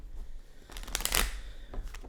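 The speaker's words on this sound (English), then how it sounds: "As I'm shuffling the cards" A deck of tarot cards is shuffled close up, producing a quick riffling flutter of papery slaps that peaks in the middle and trails off into softer card handling.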